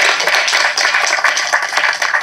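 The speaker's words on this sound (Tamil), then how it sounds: "கணேஷ் மாஸ்டருக்கு வந்து தயவு செஞ்சு ஒரு கைத்தட்டல் கொடுங்க" An audience at a Tamil movie audio and trailer launch claps for Ganesh Master, a loud, dense patter of many hands that carries on steadily throughout.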